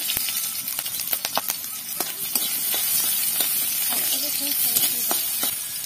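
Diced onion goes into hot oil in a wok for a dal and vegetable dish, setting off a bright, hissing sizzle punctuated by sharp clicks and clatters of stirring, fairly close and steady throughout.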